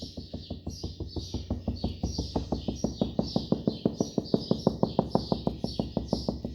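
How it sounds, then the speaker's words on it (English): Steady series of about forty sharp, hollow knocks on a fuel tank to find the fuel level, evenly spaced and close, the tone shifting deeper partway through, with no talking. "So just tap or knock."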